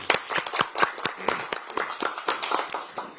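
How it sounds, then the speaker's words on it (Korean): Audience applause at a Democratic Party recruitment ceremony in Korea, dense clapping from many hands with sharp individual claps standing out, steady and fairly close for several seconds. "큰 박수를 부탁드리겠습니다."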